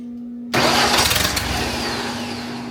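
A large wood chipper's engine catches after a dose of starter fluid, bursting from silence into a loud, steady running roar with a few rough surges in the first second.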